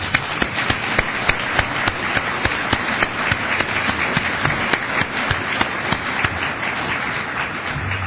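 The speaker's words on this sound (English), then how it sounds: "let's give them some applause" A conference audience applauds its organizing board in a steady, dense wash of clapping from many hands, sustained evenly for several seconds without talk.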